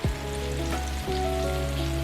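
Seasoned, flour-dusted shrimp frying in a pan, giving a steady, close sizzle throughout with no talking over it.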